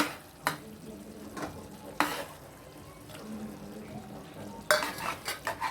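Chicken being stirred in a pan for curry, with soft sizzling under a handful of sharp spatula scrapes and clinks against the metal, nearby and moderately quiet, with no speech.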